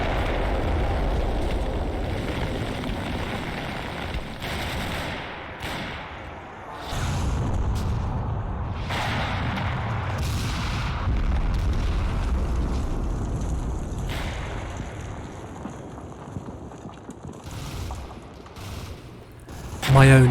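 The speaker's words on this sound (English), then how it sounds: "Artillery also starts to fall on the Casa." Artillery shells burst over a defended house in the World War II game Combat Mission Fortress Italy, with a dense rumbling barrage of repeated booms and crackling impacts that runs throughout and builds again near the end.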